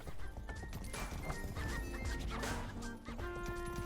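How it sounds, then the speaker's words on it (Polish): Horse hooves in the video game Rustler clatter in a quick galloping rhythm while police chase on horseback, joined by a whinny, with busy game sounds around them. "A nie, policja mnie goni na koniu."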